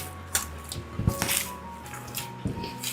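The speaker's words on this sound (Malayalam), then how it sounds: "കുറച്ച് നെയ്യും കൂടെ ഒഴിച്ചിട്ട് കൈ വെച്ചിട്ട് നന്നായിട്ടൊന്ന് കുഴച്ചെടുക്കാം" Soft dough worked by hand with ghee makes soft, wet squishing and slapping sounds in irregular bursts, close and fairly quiet.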